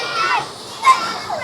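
Many children play and call out at a river campsite in Semenyih, their voices blending into a busy crowd murmur with one brief louder cry near the middle.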